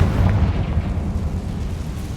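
A Confringo blasting spell detonates in the game Hogwarts Legacy, a dense low rumbling blast that rolls on steadily for a couple of seconds, loud and close with no clear separate hits.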